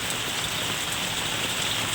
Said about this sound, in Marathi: सकाळपासून रात्रीपासून हा कंटिन्यू सतत हा पाऊस चालू आहे